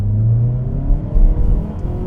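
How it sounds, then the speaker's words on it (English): Inside a 2026 Mazda 3 Hatchback Carbon Edition pulling away from a stop, a low engine drone swells steadily as the car accelerates, heard close and continuous with no talking. "Whenever the car in front of us goes, I can now hit the accelerator,"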